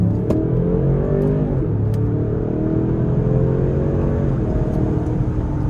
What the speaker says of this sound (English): I'm gonna come around this corner slowly, and then we're gonna floor it